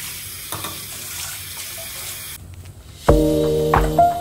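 A cooking pot is washed under a running kitchen tap. A soft, steady water hiss gives way to a louder gush and clattering metal as the pot fills and is rinsed up close.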